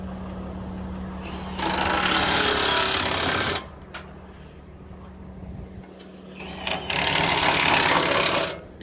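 A used landfill D6 bulldozer with a damaged blade is driven into its blade, with a loud diesel engine rattle and bursts of harsh grinding, clanking noise that swell and drop.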